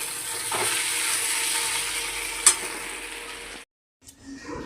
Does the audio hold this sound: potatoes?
yes